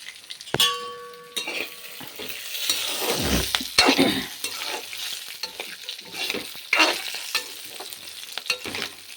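Cumin seeds sizzle and pop in hot oil in a kadai while a ladle stirs and clinks against the metal pan, close and busy with scraping sounds and no talking.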